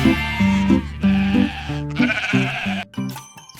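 Sheep bleat in a series of long, wavering calls, several overlapping and following one another closely, loud and near with no talk over them.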